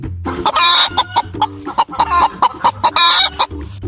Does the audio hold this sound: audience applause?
no